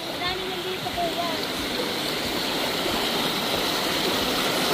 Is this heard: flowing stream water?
yes